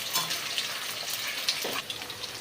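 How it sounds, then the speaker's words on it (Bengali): Potatoes fry in hot oil in a pan, browning for a lentil and fritter dish, making a steady close sizzle and hiss with faint stirring throughout. "আলুগুলো বন্ধুরা খুব ভালো করে লাল লাল করে আমি একটু ভেজে নেব।"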